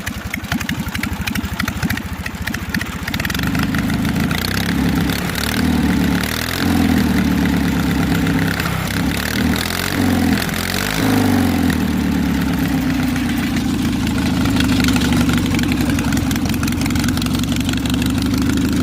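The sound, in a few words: hot rod tractor engine running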